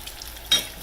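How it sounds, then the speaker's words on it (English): Apple fritters frying in hot oil for an old-fashioned recipe, a steady close sizzle that swells louder and brighter partway through, then settles back to a softer crackle. "They're really frying up pretty."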